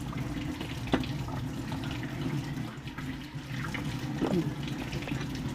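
Tap water runs steadily into a sink during cleaning, a constant close splashing flow at moderate level with a couple of brief knocks.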